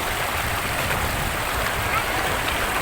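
Strong current of a fast-flowing stream where people are bathing, a loud steady rushing wash of water that fills the whole moment.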